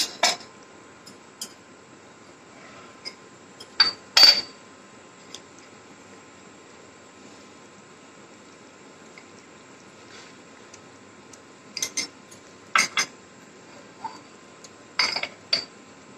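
Salt being stirred into food in a pot: sparse, quiet metallic clinks and scrapes of a utensil against the pot, coming in irregular small bursts over a faint simmering background.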